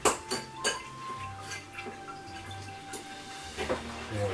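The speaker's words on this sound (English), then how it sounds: "And give it a good stirring till it's all nice and covered." Egg being stirred into grated potato in a bowl, giving soft wet mixing sounds with light clinks and taps of a utensil against the bowl, quiet and close.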